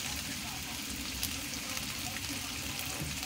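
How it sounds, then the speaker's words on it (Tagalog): Garlic sizzling in a large wok for garlic fried rice, a steady, even crackling hiss throughout with no pauses. "at lagay natin yung ating bawang"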